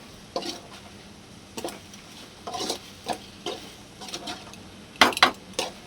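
Soya chunks (meal maker) being stirred in a cooking pan with biryani masala, onion, tomato, salt and chili: intermittent scraping and clinking bursts of a spoon against the pan, close by, with quiet gaps between strokes and no talking.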